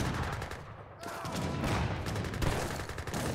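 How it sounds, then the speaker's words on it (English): Rapid Gatling gun fire in a strategy video game, dense overlapping bursts of shots at mid distance filling the whole stretch with little pause. "You just have to deal with constant Gatling guns everywhere."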